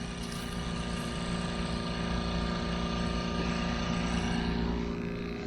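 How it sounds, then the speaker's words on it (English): A refrigerator or deep-freeze compressor powered by a 12-volt solar system runs with a steady, pulsing mechanical drone full of low harmonic tones, close and continuous, with no talk. "There's the compressor."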